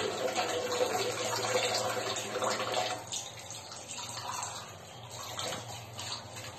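A kitchen tap runs while dishes are washed, a steady close rush of water that eases slightly halfway through, with faint clinks.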